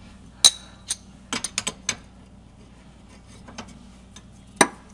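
Hand tightening a lug bolt during a Kia brake job, heard as a few sharp metallic ratchet clicks and clanks spaced across the moment, fairly close against a quiet background.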